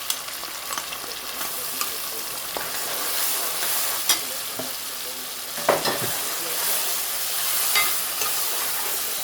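Tomatoes and masala fry in a pan with a loud, steady sizzle, broken by occasional scrapes and clacks of a stirring spoon, and no voice.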